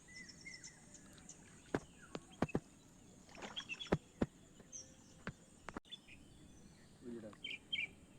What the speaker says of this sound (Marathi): चला निलेशने बोट काढलाय सचिनच्या आता आम्ही निघतो